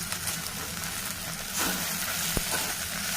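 Okra and spring onions fry in a pan as roasted, ground spice powder is stirred through them, giving a constant hissing sizzle. Stirring scrapes rise partway through, and one sharp knock against the pan is heard, with no talking.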